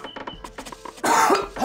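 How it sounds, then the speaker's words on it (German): A person coughs in a short burst of several hacks, followed by a louder, harsher rasping cough up close with throat-clearing quality, heard alone without talk. "Ja, die Husterei geht wieder los."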